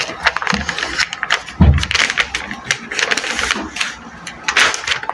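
A sewing machine stitching pleats on flared trousers, a rapid clattering run of stitches throughout with a voice talking over it.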